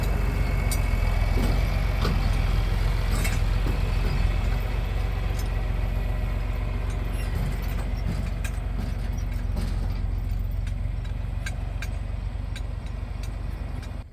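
A truck towing a hay mower drives toward a farm, its engine a steady, loud low rumble with road noise throughout, and occasional faint rattles and clicks on top.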